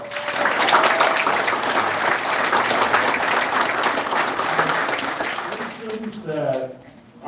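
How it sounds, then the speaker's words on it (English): Audience applause at a school board meeting fills the room as a dense, sustained wash of clapping that fades toward the end, followed by faint voices. "please, everyone, one more big round of applause, please"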